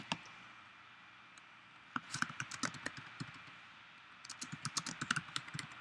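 A computer keyboard is typed on in two short bursts of quick, crisp keystrokes, close and fairly quiet, with a pause between them and no talking.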